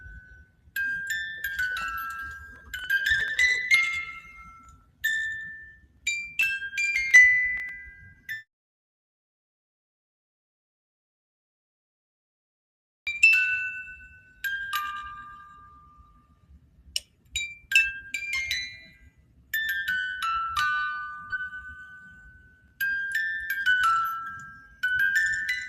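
An antique music box plinks out a tune in bright tinkling notes, clear and close, in phrases separated by a few-second silent pause, with no talk over it.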